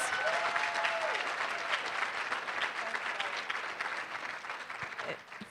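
An audience applauds after a talk, dense steady clapping from many people filling the room for several seconds and slowly thinning toward the end.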